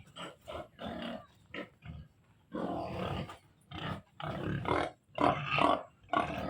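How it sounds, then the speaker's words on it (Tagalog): Domestic pigs kept at a rural Philippine farm grunt and snort in a series of loud, close bursts separated by short pauses, with no talking. "Titingnan natin yung mga alagang baboy ng aking hipag."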